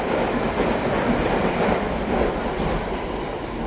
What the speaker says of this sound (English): That was a Metropolitan line train passing.